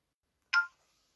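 A single short telephone keypad tone from a phone line being dialed, sounding once, clear and close, with silence on either side and no talk.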